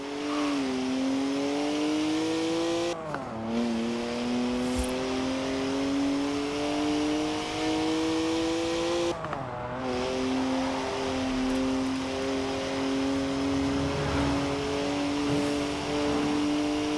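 A BMW 1M, a rear-wheel-drive car with 50-50 weight distribution, revs loudly in Forza Horizon 4, holding a steady engine drone with two brief drops and recoveries as it shifts gear, close and continuous with no talk.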